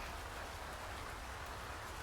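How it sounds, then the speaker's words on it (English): Rain squall in the sailing game Sailwind, a steady, faint hiss of rainfall with no other sounds. "You see the rain squall covering the island a bit."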